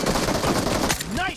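Rapid automatic gunfire in the PUBG Mobile video game, a dense loud burst for about a second, then a brief tail with a faint voice-like game sound.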